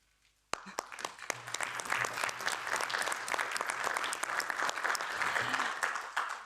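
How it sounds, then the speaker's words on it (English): An audience in the European Parliament bursts into applause after a near-silent moment, a sustained, fairly dense clapping that carries on steadily to the end without fading. "we can applaud him"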